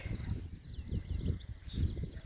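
Faint high-pitched cricket chirping trills steadily in the background over a soft low rumble of outdoor noise.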